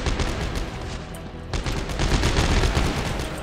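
Rapid gunfire in the video game Dead Space 3, a dense, loud burst of shots continuing with little pause across the whole moment and a sharp added blast midway.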